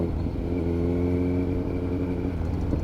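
A Kawasaki Z900 motorcycle engine hums close and steady as the rider sets off, a smooth sustained drone with a slight rise in pitch over a few seconds.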